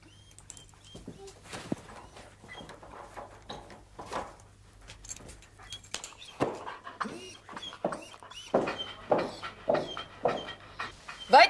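Dogs inside a home whimper, pant and snuffle over several seconds, with faint voices and small household noises around them.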